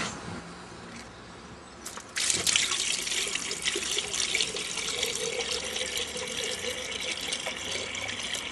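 Water pours steadily from a hose or container into a car's radiator opening, a loud continuous splashing rush that starts abruptly after a quiet moment and keeps flowing.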